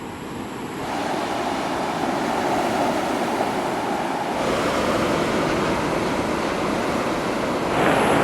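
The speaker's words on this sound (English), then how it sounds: "As beautiful as it is to stand out here watching these crashing waves" Ocean waves break on a Philippine shore at night, a continuous broad roar of surf with no distinct individual crashes, steady and fairly loud with no talking.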